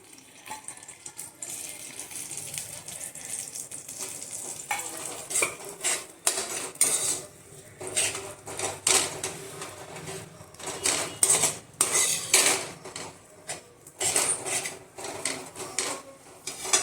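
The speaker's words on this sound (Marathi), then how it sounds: "आता आपण परत पॅनमध्ये 1 टेबलस्पून तूप घालूया आणि त्याच्यामध्ये ही भरड" A coarse mixture of ground dates and figs is sautéed in a spoonful of ghee in a pan over medium heat, with irregular close scraping, clinking and soft stirring noises that grow busier partway through; nobody speaks.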